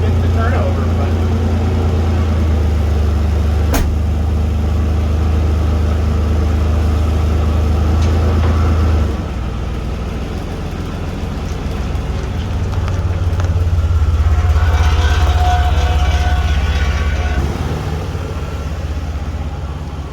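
An old Chevy Blazer idles steadily with a low rumbling drone, loud and close, with a brief shift midway and people talking faintly over the running engine.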